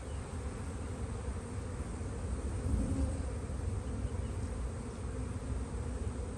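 Honeybees swarming around an open hive during a spring inspection, a dense continuous buzzing drone, close and steady throughout.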